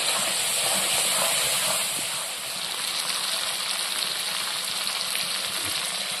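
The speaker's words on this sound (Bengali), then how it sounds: "একসাথে সব সুন্দর করে ভেজে নেব" Carrots, cauliflower and peas sizzle steadily as they fry together in a pan for vegetable khichdi, a continuous close hiss with soft stirring and no talking.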